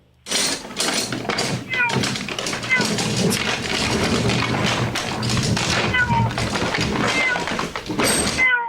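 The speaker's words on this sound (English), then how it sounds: "Other than a cat meowing a lot." Several cat meows, high and drawn out, repeat across the clip over a busy background of clattering and voices.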